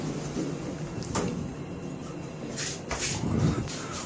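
A KONE MonoSpace KSS 280 lift door slides shut with a soft rumbling glide and a couple of light knocks, heard close inside the elevator car, quiet and brief.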